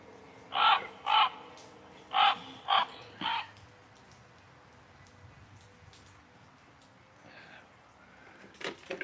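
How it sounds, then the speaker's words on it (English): A battery-powered toy crow caws five times in two close groups, loud and near, followed by quiet room noise and a faint rustle at the end. "All right, back in the box you go, Mr. Crow."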